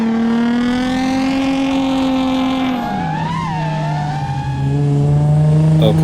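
Drift car held at a steady, loud engine drone, then dropping pitch before climbing again under renewed throttle at a track day, with a high tyre squeal through the middle and the engine close throughout.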